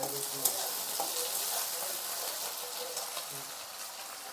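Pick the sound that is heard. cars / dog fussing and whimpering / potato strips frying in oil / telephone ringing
potato strips frying in oil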